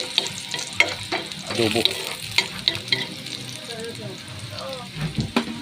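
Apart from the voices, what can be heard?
onion and garlic sautéing in a pan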